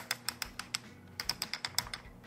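A rapid series of small sharp clicks from a foam cannon's fan-adjustment nozzle being rotated, close and distinct, in quick ratcheting bursts with a brief pause in the middle.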